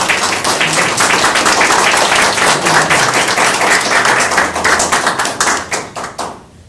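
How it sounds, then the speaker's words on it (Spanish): Close, loud applause from an audience at a literary gathering: many hands clapping rapidly and evenly for several seconds, then quickly fading out. "Julio Peña Coraba, para quien solicito un fuerte voto de aplauso."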